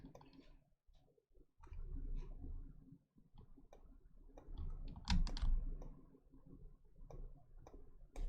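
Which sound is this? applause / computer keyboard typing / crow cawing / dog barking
computer keyboard typing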